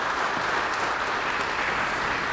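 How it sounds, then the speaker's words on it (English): An audience at a university athletics hall of fame induction bursts into applause, a dense, even roar of clapping that fills the whole moment at close range with no voices over it. "Give yourselves a round of applause"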